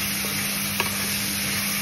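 Meat frying in a pan for munggo beans, giving a steady, soft sizzle with a faint stir or scrape near the middle, no voices.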